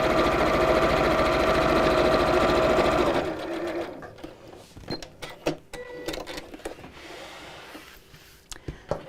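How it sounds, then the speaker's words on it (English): Sewing machine stitching down the second side of a fabric cosmetic bag with handles, first a steady loud continuous whir, then stopping, followed by quieter clicks and handling noises. "turn it around and sew back down the second side"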